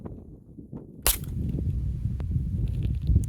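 .22 rifle firing a single shot into a box, one sharp loud crack followed by low rumbling room noise after a quiet start.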